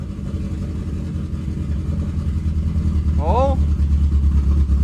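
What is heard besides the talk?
Subaru Forester with swapped forged STI engine running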